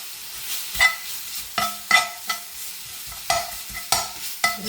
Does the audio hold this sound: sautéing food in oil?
yes